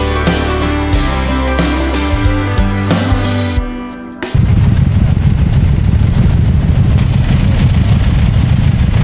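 A motorcycle engine idles steadily while being parked beside a mosque in the dark. A loud, continuous low rumble cuts in after a few seconds of music and runs on unchanged to the end.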